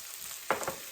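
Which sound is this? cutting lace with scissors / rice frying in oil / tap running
rice frying in oil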